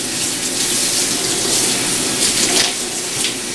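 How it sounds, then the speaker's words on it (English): Running water rinses excess dye out of beauty-supply-store human hair, a steady continuous splash and flow from a tap held at an even, fairly loud level throughout with no voices. "So then from there, you're just gonna rinse it off."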